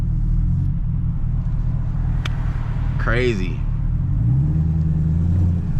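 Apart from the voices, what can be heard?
supercharged car engine rumbling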